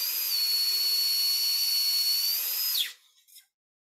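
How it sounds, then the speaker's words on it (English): Power drill driving into material over a wire, a steady high-pitched whine for almost three seconds that winds down abruptly, followed by a few faint short bursts, with no talking. "I'm going to drill over this wire."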